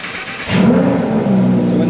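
A 2016 Lamborghini Huracán engine runs after a quiet opening, its loud, full idle rising abruptly and then holding steady with a slight swell in pitch, heard up close and alone.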